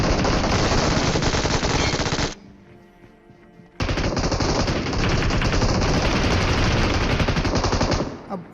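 Sustained automatic gunfire roars in the video game PUBG Mobile, a dense, loud rattle of rapid shots that drops away briefly in the middle and then resumes at full intensity.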